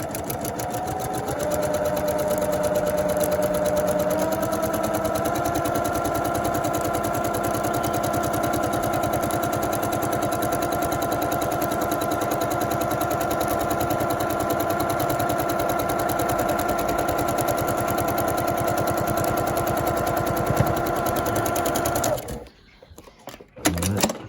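A PQ 1500 SL straight-stitch sewing machine runs steadily at stitch length 1, a loud, close, continuous mechanical whir held for about twenty seconds before stopping abruptly.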